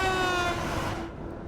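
A BR 193 Vectron electric locomotive in Train Sim World 6 runs at speed with a steady high-pitched electric whine and rolling noise, fading slightly toward the end.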